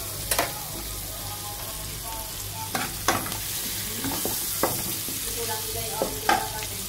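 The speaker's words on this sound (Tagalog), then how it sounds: "Ilagay natin yung sibuyas. Igisa natin." Onions sautéing in a pan for a simple soup, a continuous nearby sizzle with intermittent clinks and scrapes of a spoon stirring, spread irregularly through seven seconds.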